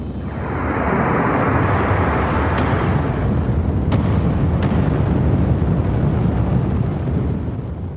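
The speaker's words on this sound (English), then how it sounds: "Explosion." A big explosion in the video game Xenogears, a loud, sustained rumbling roar that swells in and holds for several seconds with a few sharp crackles.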